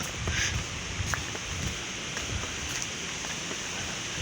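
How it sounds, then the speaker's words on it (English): Steady broadband rustle of leaves as wind stirs several tall trees near quarries at Stoke Saint Michael, continuous and moderately loud, with a few brief crackles mixed in. "It's always rustling in the wind."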